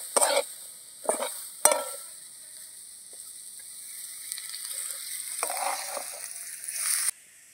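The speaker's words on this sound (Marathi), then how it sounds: "तर आपला कांदा तळून झालेला आहे, लालसर असा कलर आलेला आहे आणि त्यामध्ये आपल्याला आता तेल टाकायचं आहे" Fried onions sizzling in a pan as oil is added for an egg-based Marathi vegetable dish, a steady hiss punctuated by a few sharp splattering bursts, close and loud until it abruptly stops.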